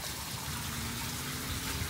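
A downtown water fountain in Winter Haven splashes in a steady, soft, even wash of falling water, heard alone at low level.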